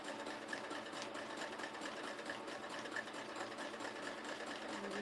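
A sewing machine stitches free-hand applique in a home craft setting with a steady, fast, continuous whirring hum at moderate volume throughout.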